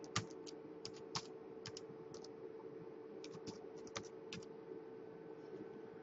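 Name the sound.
retyping a password on a computer keyboard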